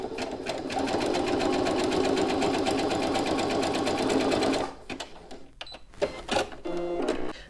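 Domestic sewing machine stitching an appliqué test on scrap fabric, a fast steady mechanical whirr running for about four and a half seconds before stopping, followed by brief clicks and handling sounds.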